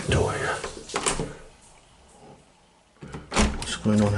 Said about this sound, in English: Now, you can go out the back door here.